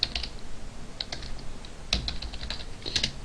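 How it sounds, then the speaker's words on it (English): Fingers type on a laptop keyboard in irregular bursts of crisp, close clicks with short pauses between keystrokes, heard alone without speech. "every time I type a symbol I have to look on my laptop"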